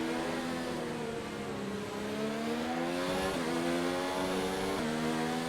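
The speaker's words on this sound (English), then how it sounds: "We are back on the throttle again through that long right-hander." An F1 race car engine in F1 2019 at the Shanghai GP, screaming loud and close as it accelerates out of a long right-hand corner, pitch climbing steadily with brief dips at gear shifts.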